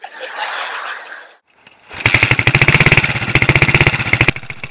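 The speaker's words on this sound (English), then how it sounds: "trots with his old motorbike on the dirt road of Kamagut village" An old motorbike ridden on a dirt road in Kamagut village: after a brief hiss and a short pause, its engine thumps in with a rapid, loud, close chain of firing pulses that runs steadily to the end.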